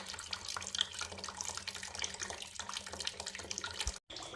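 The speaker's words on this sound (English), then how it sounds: "While I'm waiting for our regulator to drain with that little tiny 1/4-inch valve" Antifreeze drains from a small quarter-inch valve on a wagon's radiator regulator, a steady close trickle of liquid running continuously with faint clinks, then briefly cut off near the end.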